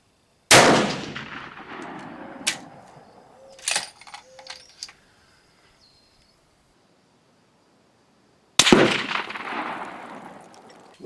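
A Steyr rifle fires two loud, sharp shots at an outdoor range several seconds apart, each with a ringing tail, and light clinks and handling noises fall in the quiet gap between them.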